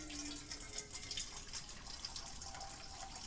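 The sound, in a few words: running tap water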